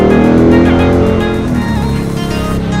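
Car wheels spinning on Nitto NT555 G2 tires, a loud continuous engine roar with a rising whine and tire noise, close and sustained throughout.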